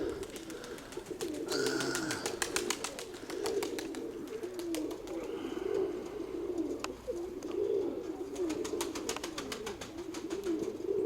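Tumanorizy pigeons coo repeatedly in soft, low, rolling calls, with occasional chirps and clicks in the background, steady throughout.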